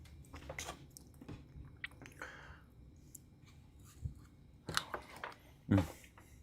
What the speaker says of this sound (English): apparently it's really loud when I chew